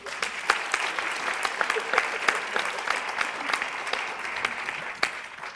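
Audience at a talk on new learning spaces applauds, a moderate, continuous clapping from a room-sized crowd with a few sharper individual claps standing out.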